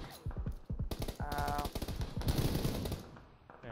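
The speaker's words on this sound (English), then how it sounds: "He's shooting at somebody else." Rapid automatic rifle fire in PUBG crackles in a fast, evenly spaced string of sharp shots, broken by short pauses and resuming in bursts, fairly close and crisp.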